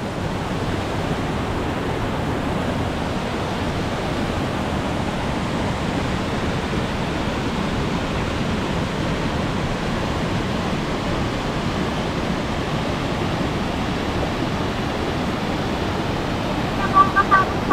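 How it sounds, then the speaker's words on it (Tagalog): Strong rushing river water flows in a steady, loud, unbroken roar close by, filling the whole stretch with no break. "ang lakas nito, oh, yung tubig na to, yung umaagos"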